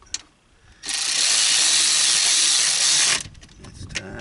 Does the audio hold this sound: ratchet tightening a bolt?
yes